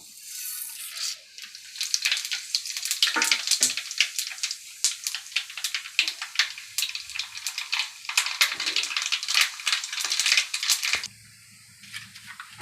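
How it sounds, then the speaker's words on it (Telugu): Mustard seeds and cumin crackle and pop in hot oil for a Telugu bocche fish pickle, with dense rapid spitting and sizzling close by that stops abruptly near the end. "ఇప్పుడు ఆవాలు, జీలకర్ర వేద్దాము"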